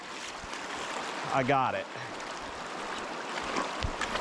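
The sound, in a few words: shallow creek water flowing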